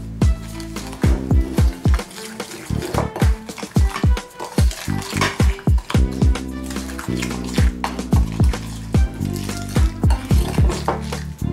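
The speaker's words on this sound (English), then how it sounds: "And I'll give it a good mix." A utensil clinks and scrapes repeatedly against a pot or bowl while ingredients are mixed with olive oil during Christmas dinner cooking. The strikes come loud and close in an uneven, steady rhythm.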